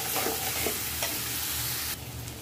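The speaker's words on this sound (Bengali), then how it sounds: "মশলাটাকে আমি একটু ভালো করে কষিয়ে নিব।" A masala of chili powder, turmeric and salt sizzles steadily in a pan, loud and close, with a few scraping stirs over the continuous frying hiss.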